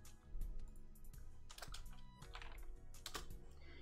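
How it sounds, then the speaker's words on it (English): A computer keyboard clatters through a quick run of keystrokes as a command is typed, bursts of crisp clicks with short pauses between them, fairly quiet and close. "you type in crypt again"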